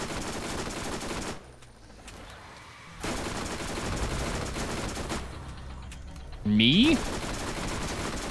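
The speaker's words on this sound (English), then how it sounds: "What are you guys shooting at?" Gunfire in the video game Borderlands: sustained automatic weapon fire runs through most of the stretch, dropping out briefly in two places, with a short voice interjection and a bright synthetic tone near the end.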